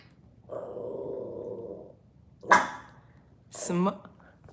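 Dogs giving a low sustained growl followed by two short, sharp barks, close by and alone.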